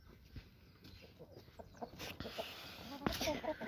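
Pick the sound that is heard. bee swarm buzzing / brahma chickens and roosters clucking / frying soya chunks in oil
brahma chickens and roosters clucking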